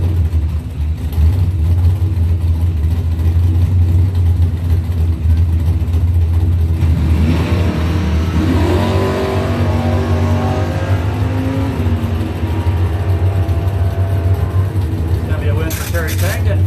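Drag race cars, a 1979 Camaro Z28 and a Dodge Dakota, rumble loudly at the strip and then surge into rising acceleration, while an announcer talks over a public address system.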